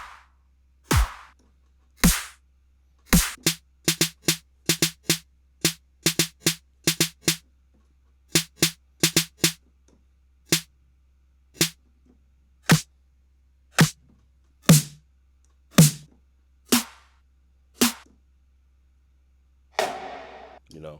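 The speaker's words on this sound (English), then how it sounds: "And then you move into snares." A run of individual snare drum samples auditioned one after another in Logic Pro X, sharp isolated hits of varying tone and length spaced by short silences, loud and dry, ending on a brief noisier sound.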